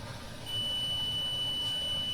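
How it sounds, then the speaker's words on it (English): A steady, high-pitched electronic alarm tone starts half a second in and holds continuously, fairly faint, with no talking. "Can you stop that alarm?"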